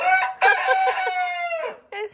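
Hens in a chicken barn give a loud, close, drawn-out squawking call with a few sharp clucks at the start and end.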